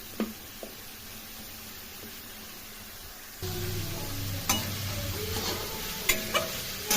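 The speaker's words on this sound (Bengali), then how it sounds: "এখন একটু ভালো করে কষিয়ে নেব।" Onions and spices with a pinch of sugar stir-frying in a pan for broccoli curry, the sizzle jumping louder when the flame is turned high, with a few close clanks of a spatula against the pan.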